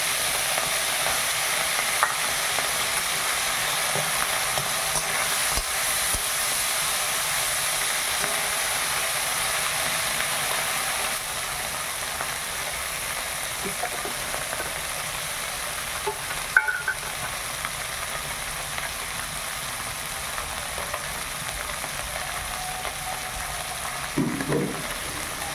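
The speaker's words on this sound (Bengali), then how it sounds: "মাছগুলো খুব সুন্দর করে ভাজা হয়ে গেছে, এবার তুলে নিই।" Small puti fish frying and being stirred in a pan, with a continuous sizzle and hiss throughout and occasional soft scraping clicks from the utensil, steady and close.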